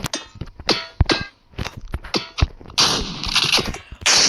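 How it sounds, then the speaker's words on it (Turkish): A pump shotgun fires repeatedly in a video game, sharp metallic blasts coming in quick succession with short gaps, followed by a denser burst of loud noisy impacts. "Pompalıyla sıkıyor."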